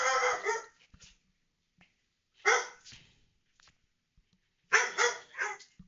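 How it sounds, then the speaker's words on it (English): A pet dog barks in three separate bursts a couple of seconds apart, each a short cluster of sharp, moderately close woofs with quiet gaps between. "One moment, my dog's barking."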